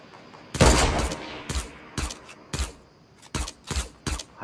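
Bursts of gunfire from legendary miniguns in a battle royale video game: separate sharp volleys, one longer at the start and then shorter ones about every half second, fairly quiet overall with no talk.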